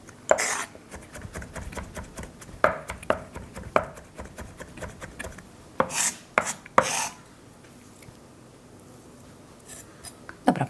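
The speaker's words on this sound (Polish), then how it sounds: "Najważniejsze, żeby nie były to duże kawałki czosnku, tylko żeby był taki drobno posiekany" A knife chops garlic finely on a cutting board, the blade striking in quick bursts of close, sharp taps with short pauses between them.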